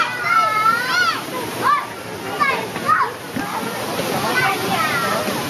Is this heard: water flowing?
yes